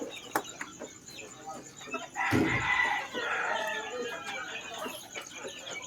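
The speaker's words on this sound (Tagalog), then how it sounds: "Ito naman yung mga pulit natin. 4 months na." Four-month-old pullets cluck and squawk in a coop, a sudden louder flurry starting midway and continuing as a busy chatter, with no talk over it.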